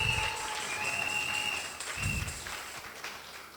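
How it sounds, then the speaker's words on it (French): A church congregation applauds in a steady wash of clapping, with faint sustained tones beneath it and no talking over the top. "Acclamons très fort pour le Seigneur."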